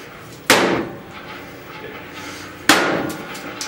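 Two heavy hammer blows strike an old tube television, each a sharp, loud crashing impact followed by a short rattling decay, spaced about two seconds apart.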